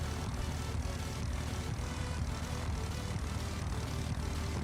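A propeller airplane engine drones steadily and loudly during a landing approach in a flight simulator game, a continuous close hum with a faint pulsing beat and no pauses.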